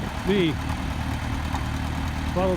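A tractor engine idles with a steady low rumble throughout, close by on a cattle farm beside a hay bale and gate; a short low vocal sound from cattle rises at the start and again near the end.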